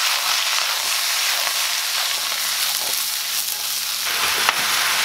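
Lemon pepper salmon sears in a hot pan with a steady, loud sizzle that runs the whole time, broken by a few soft scrapes as the fillets are shifted.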